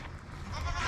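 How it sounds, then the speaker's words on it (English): Baby goats bleat inside a barn, several short overlapping calls at close range with steady farmyard background and no voices. "So we got these baby goats last spring"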